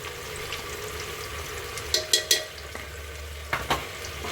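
Potato pieces frying in a pan with coriander-cumin powder and turmeric: a low, steady sizzle with a few quick, sharp scrapes of a spoon stirring the mixture.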